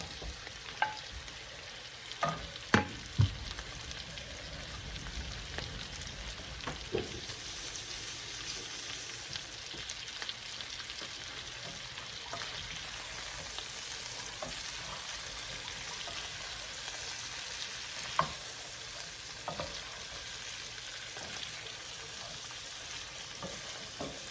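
Shrimp and beef frying together in a pan, a quiet steady sizzle running throughout with scattered spoon clinks and stirring scrapes, a few sharper knocks early on.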